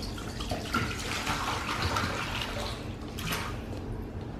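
Water pours steadily from a tap into a dog's water bowl indoors, a continuous splashing rush that runs for several seconds.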